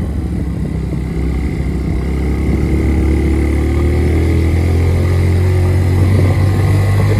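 A Honda Vario 160 scooter engine drones steadily at high strain up a steep mountain road, a loud continuous hum that rises slightly in pitch toward the end.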